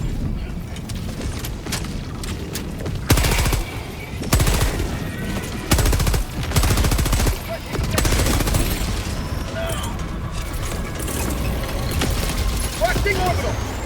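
Gunfire in Helldivers 2 as a player shoots a mine, with loud bursts of rapid shots in several clusters over constant game noise and rumble.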